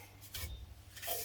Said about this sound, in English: whenever I drill any holes, I'll always put a countersink on each side just to get rid of the burrs